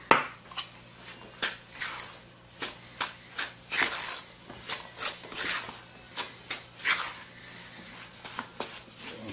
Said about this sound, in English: So mix it up as much as you can with a fork